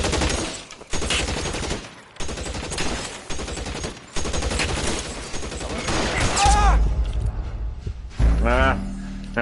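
Rapid bursts of gunfire from an L.A. Noire shootout around a house, volleys of close, loud shots with brief gaps, later joined by short shouted voices.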